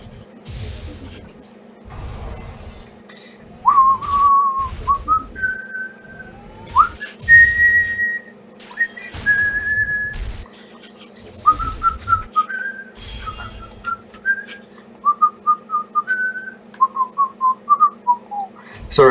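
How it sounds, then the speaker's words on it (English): A person whistles a melodic tune in a series of short phrases with pitch slides and quick trills, fairly close and clear over a steady low hum, with breaths and thumps between phrases. "I just had to whistle a bit to try to wake myself up."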